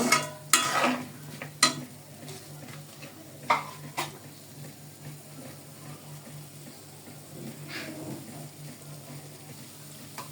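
A spoon stirs peas into khichdi in a cooking pot, with a few sharp clanks and scrapes against the pot early on, then softer, steady stirring under a faint sizzle. No voices.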